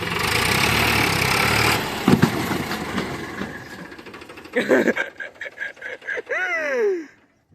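A tractor engine runs steadily during preparations for a flag-decorated tractor stunt at a Republic Day school event, then breaks into choppy bursts and ends with a rising and falling whine before cutting off.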